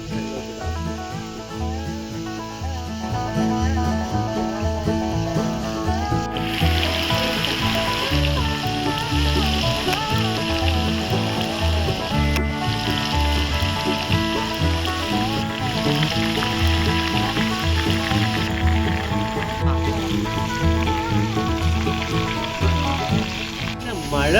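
Chicken coated in a special spiced masala hits hot oil and sizzles; after a few quieter seconds a loud, steady frying hiss takes over and continues to the end over a tonal background.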